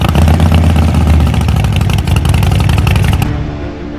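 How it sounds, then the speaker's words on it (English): Harley-Davidson Sportster 48 Special motorcycle engine running loud and close with a deep, throbbing, rumbling pulse that stays steady, then drops off abruptly near the end. "Now Shivank rides Harley-Davidson's latest Sportster, the 48 Special, to see if it's really as sporty and as spec"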